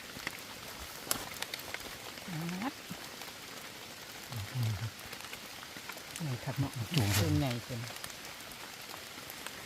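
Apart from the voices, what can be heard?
rain falling in the forest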